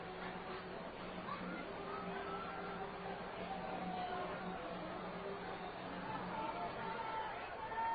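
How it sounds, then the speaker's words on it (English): Baseball crowd at a minor league game between the Arkansas Travelers and Springfield Cardinals, a steady distant roar of chatter and scattered shouts of a player's nickname, continuous babble throughout with no clear single voice. "you hear people shouting out, Papo, Papo"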